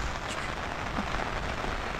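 Heavy rain pours down steadily outdoors at a rural hut under renovation, a dense, even hiss of drops drumming on surfaces with no voices.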